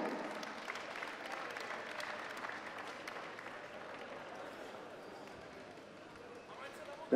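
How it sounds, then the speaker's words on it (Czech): A crowd at an ice hockey final applauds the silver-medal team, steady clapping throughout with a public-address voice speaking over it, fairly distant and even. "ještě jednou tady potlesk pro sympatický bojovný výkon finálového stříbrného medailistu Královéhradecký kraj"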